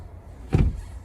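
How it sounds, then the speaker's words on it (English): A single dull thump of a 2023 BMW 228i Gran Coupe's rear door shutting nearby, brief and solid, in an otherwise quiet interior. "I closed the door on my"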